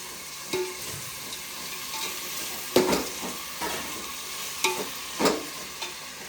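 Onions sizzle and fry in a pan for chicken biryani, stirred in several distinct scraping strokes over a steady background hiss.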